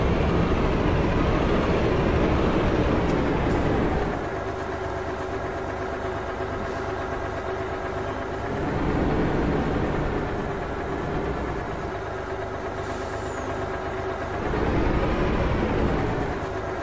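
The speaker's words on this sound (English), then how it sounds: "is that truck ever loud?" A truck engine in the video game Farming Simulator 19 idles with a deep, steady rumble, its revs swelling and settling back in a slow repeating pattern.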